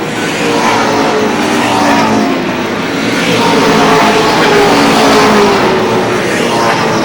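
Race cars lap Lee Speedway in New Hampshire, their engines roaring loud and steady for several seconds as the pack streams past.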